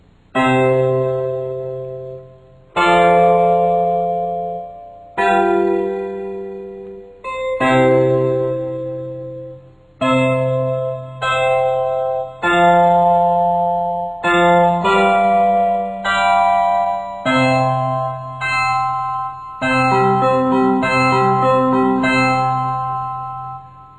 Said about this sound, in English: Let's hear a simple chord progression in the false, tempered tuning.